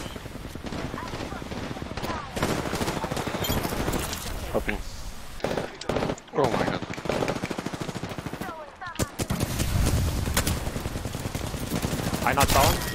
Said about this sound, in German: Von hinten krieg ich Schüsse, pass auf.